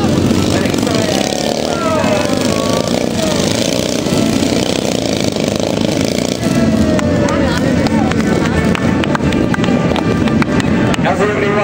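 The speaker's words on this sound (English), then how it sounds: "Bank the bikes over and accelerate." Several Royal Signals White Helmets display team motorcycles bank over and accelerate across an outdoor arena at an Armed Forces Day show, their engines droning loudly and continuously while a commentator speaks over a public-address system.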